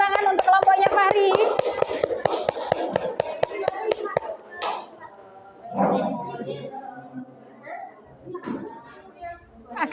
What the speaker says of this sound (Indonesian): Tepuk tangan untuk kelompoknya Fahri.